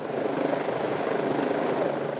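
A rescue helicopter hovers over a primary school oval, its rotor blades producing a steady, dense whirring roar that holds without pause.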